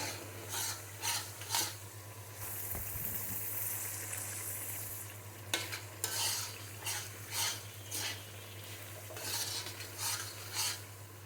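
Spice paste with garlic and vinegar stirred and fried in a pan for garlic pickle, soft quiet sizzling under repeated scraping strokes of a spoon against the pan, coming in rhythmic bursts with a low steady hum beneath.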